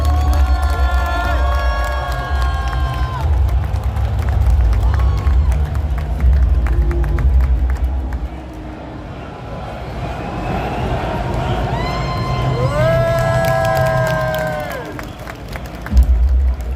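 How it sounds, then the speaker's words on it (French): Crowd at the Ubisoft cosplay show at Paris Games Week 2024 clapping and cheering for costumed participants, loud and busy with shouts and music-like tones over it, easing midway then swelling again. "faire ton défilé sous l'applaudissement du public"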